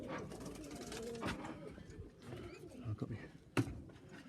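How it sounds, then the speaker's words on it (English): Young birds calling in an aviary, with soft cooing and chirping calls over a steady background murmur and one sharp knock near the end. "These are all young birds."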